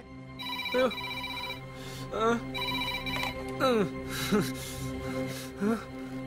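A telephone rings in a comedy scene: a steady, repeating electronic tone runs throughout, with voices talking over it.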